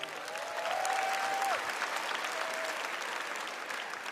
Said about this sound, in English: Let's give our contestants another round of applause.